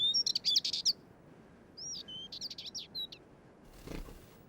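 A male spectacled warbler sings from a perch in the Canary Islands, quick bursts of bright twittering phrases repeated several times over a soft rustling background, fairly close.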